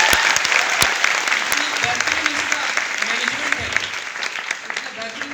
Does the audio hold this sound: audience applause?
yes